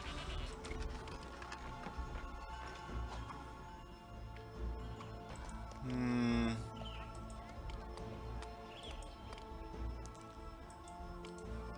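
Goats bleating in the city-building video game Zeus, a brief bleat rising out of a busy, steady bed of game ambience and music with ticking clicks around it.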